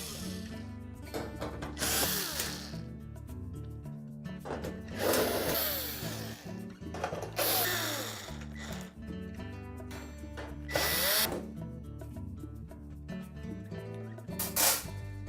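A power drill backs out the screws securing the upper panel of a GE oven to its frame, in several short whirring bursts separated by pauses and light clatter, close by.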